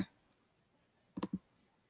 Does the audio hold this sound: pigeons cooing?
no